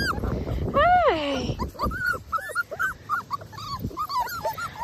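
Puppies whimper and whine in high, wavering cries, one long drawn-out whine followed by a string of short squeaky whimpers, close by.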